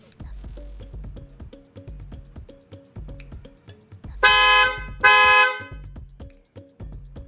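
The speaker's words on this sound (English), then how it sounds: "So all I need to do is hold it and the alarm will start going off." A Toyota Camry's car alarm, triggered from the key fob, goes off with a looping electronic siren pattern punctuated by two loud, sharp horn blasts close by.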